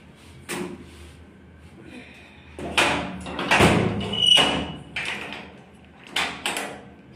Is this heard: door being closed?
yes